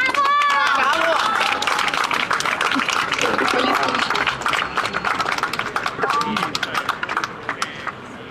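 A crowd on a march toward the Arena di Verona applauds, a dense burst of clapping that thins and fades out over several seconds, with a voice speaking over the start.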